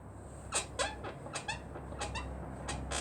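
A squeaking car part giving a series of short, sharp, high squeaks in an irregular rhythm, about eight or nine, close and fairly faint over a low background hum.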